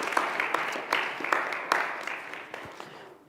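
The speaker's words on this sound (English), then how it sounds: "would you like to give them a round of applause for their courage and showing up?" An audience applauds volunteers with a full wash of clapping, distinct sharp claps standing out at a fairly regular beat before the sound tapers off at the end.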